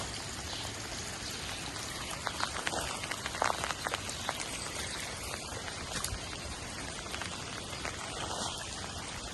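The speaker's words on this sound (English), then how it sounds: "it's not just raining" Heavy rain pours during a walk on a flooded road, making a steady hiss with scattered droplet taps and splashes, fairly quiet and continuous.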